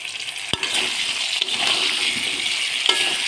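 Continuous sizzling of chopped ripe tomato frying in a pan, with a couple of sharp scrapes as it is stirred; no voices.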